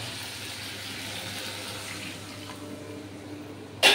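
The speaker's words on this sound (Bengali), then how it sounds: "এবার এর মধ্যে আমি দিয়ে দেবো একটু জল" Water poured into a cooking pot while making chhanar kofta curry, a steady soft rushing pour running throughout, ending with a brief louder splash near the finish.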